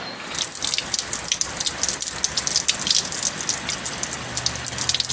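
Water from a garden hose splashes and gushes steadily through the water tube of a 30 hp Evinrude outboard on a small test stand, a continuous close hiss with no talking.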